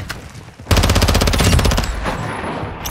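Submachine gun in a modern military shooter video game unloads in a long, rapid, loud automatic burst after a fresh magazine, steady rattling fire filling nearly the whole stretch with no talk over it.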